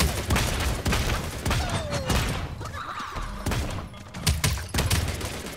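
Gunfire in the battle royale video game Realm Royale, rapid bursts of shots and thuds mixed with game effects, loud and busy with irregular clusters of impacts across the stretch.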